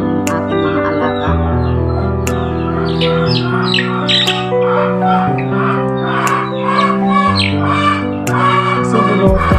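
Chicks sick with fowl pox squawk and cheep loudly and continuously at close range, a dense overlapping chorus of harsh calls.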